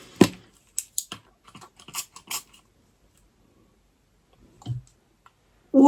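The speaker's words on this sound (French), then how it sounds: "Imaginez, je la déballe, j'aime pas l'odeur." A Sol de Janeiro perfume mist is unwrapped close up, with sparse crinkles, snips and small clicks of packaging separated by quiet gaps.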